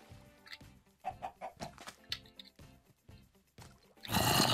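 Chicken clucks from the video game Minecraft come in a rapid, uneven series of short, close, fairly quiet calls before a sudden burst of louder noise at the end.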